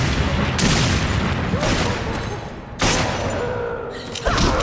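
Gunfire and explosions in the video game Resident Evil 5, boss fight in the caverns: loud, dense bursts of shots and booming blasts, with several sharp impacts standing out over a constant noisy battle din.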